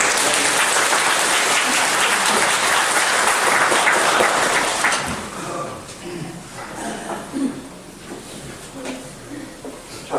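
Congregation applauding in a church during Mass: dense, loud clapping fills the first five seconds, then fades into scattered claps and soft murmuring.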